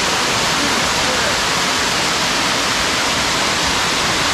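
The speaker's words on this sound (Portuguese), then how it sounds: "Chegamos numa queda d'água." A waterfall on a tributary of the Rio Cari near Morretes, heard up close as a loud, dense, unbroken roar of rushing water.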